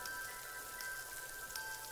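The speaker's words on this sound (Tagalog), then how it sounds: "Ilang araw nang umuulan." Steady light rain falls after days of rainfall, a faint, even hiss with occasional soft drips, distant and quiet with no voices.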